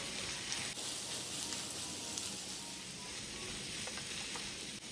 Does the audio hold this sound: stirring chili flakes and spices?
yes